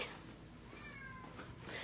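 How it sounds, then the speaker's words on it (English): A single short, thin meow from a house cat sounds near a fire indoors in Wisconsin, faint and brief over a noisy, muffled room background. "We might have a cameo from my cat."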